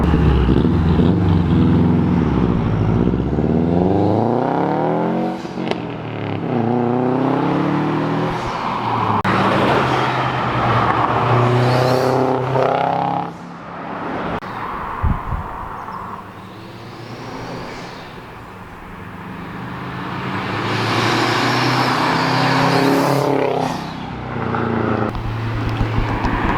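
A Subaru WRX STI with an aftermarket exhaust setup revs and drives, its loud burbling rumble rising and falling through repeated gear pulls and pauses, close and continuous without talking.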